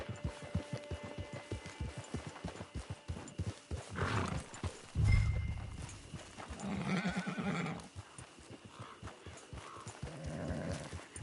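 A horse's hooves clip-clop in a steady rhythm close by, with a loud whinny and snorting breaths rising in the middle of the walk.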